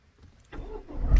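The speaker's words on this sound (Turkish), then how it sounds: "Sen aracımızı çalıştır bakalım" A car engine cranks and catches after a brief quiet moment, the starter whir rising into a louder rumble at the end.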